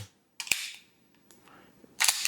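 Ruger Mark IV pistol bolt racked back and let go with no magazine inserted, sharp metallic clacks close up: one crisp snap, a few faint clicks, then a final louder clatter.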